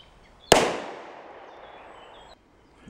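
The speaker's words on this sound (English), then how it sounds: "Next, the TT-33 Tokarev pistol." A single sharp, loud gunshot from a TT-33 Tokarev pistol fired at a homemade armor plate, followed by a long fading reverberation that cuts off after about two seconds.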